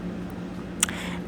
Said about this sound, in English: If you can hear a fan in the background